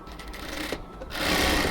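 A sewing machine runs briefly while stitching the neckline of a cotton dress, a steady mechanical whir that pauses a moment and then resumes, slightly louder and continuous, close by.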